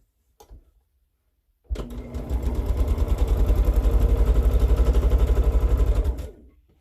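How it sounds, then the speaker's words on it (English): A sewing machine stitches baby quilt pieces, starting after a brief click and running in a loud, steady, rapid mechanical chatter for about four seconds before winding down and stopping. "And sew both of those."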